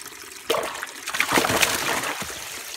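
Water from a battery-powered bilge pump pours and splashes into a boat's live well on Alligator Lake, a close, continuous trickling gush with uneven splashing and no voices over it.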